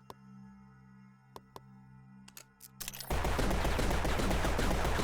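A hand cannon fires in a video game: a few sharp isolated shots over a quiet electronic hum, then a sudden loud, sustained wall of noisy blasts that fills the rest of the moment.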